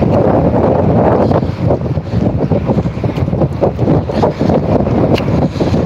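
Strong wind buffets the microphone in continuous loud gusts in an open area of Leominster near building renovation work, a low roaring rush that rises and dips without pause.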